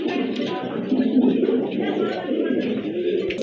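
Large pigeons at a pigeon market stall, several birds cooing softly and continuously at close range, with a faint voice in the background.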